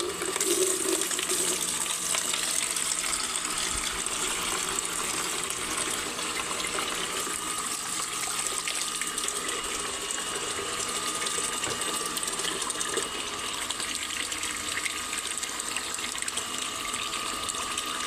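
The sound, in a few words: water running from a tap to water plants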